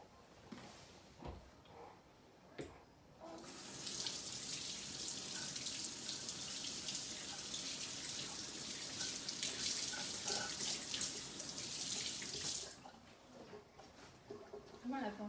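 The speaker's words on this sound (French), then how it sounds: "je vais faire ça au-dessus de l'évier parce que sinon ça va en mettre partout. Que je rince évidemment." A kitchen tap runs into the sink while salmon is rinsed for sushi, a steady close gush of water lasting about nine seconds between quieter handling sounds, with a person speaking briefly before and after.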